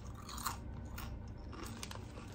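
Close, crisp crunching of a rib-flavored snack from a dollar store being chewed, a few sharp bites followed by quieter, irregular mastication with no talking.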